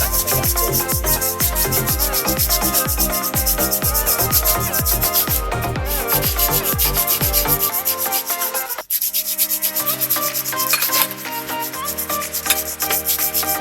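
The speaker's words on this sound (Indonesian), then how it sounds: "jangan lupa lilingnya diamplas juga biar tidak licin." Sandpaper rubs back and forth on a Mitsubishi rear wheel cylinder part in loud, rhythmic strokes that are close and fast, change to a smoother, steadier scrape partway through, and carry on without any voice.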